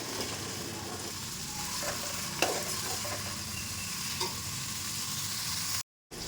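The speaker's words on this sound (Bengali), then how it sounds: "এরকমভাবে ভালো করে একটু ভেজে নিতে হবে" Spices and tomato frying for vegetarian ghugni, a constant low sizzle with soft stirring scrapes and a couple of sharper clicks from the spoon, cut by a brief silence near the end.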